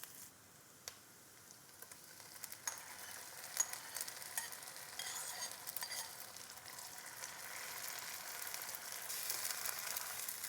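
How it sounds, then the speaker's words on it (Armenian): Onion fries gently over low heat in a pan for a bean dish, a soft, quiet sizzle with faint crackles and ticks that grows slightly busier over time, without talk. "այսպես հանգիստ, սիրուն, մարմանդ կրակին, նուրբ, պետք է ստացվի ոսկեգույն։ Սոխը չենք վառում,"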